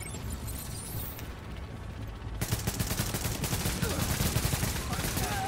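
Gunfire in The Division video game, sustained automatic bursts that grow denser and louder partway through into rapid rattling volleys, with a mechanical clatter beneath.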